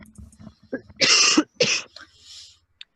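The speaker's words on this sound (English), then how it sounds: "that was me coughing." A single sharp cough, two quick bursts close together, near and loud, followed by a short breathy exhale.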